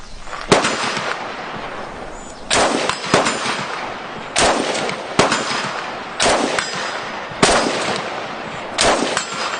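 A Chinese Type 97 FTU bullpup rifle fires loud, sharp single shots outdoors, about six of them spaced roughly two seconds apart, each one followed by a ringing decay.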